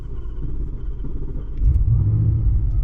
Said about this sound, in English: Let me start the car again.